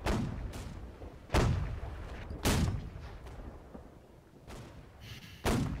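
Naval cannon fire in the video game Holdfast: Nations at War, four heavy booms spaced a second or more apart, each with a sharp attack and a rumbling tail that fades into the ongoing din of battle.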